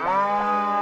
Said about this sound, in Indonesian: Suara sapi asli ini dari pegunungan asli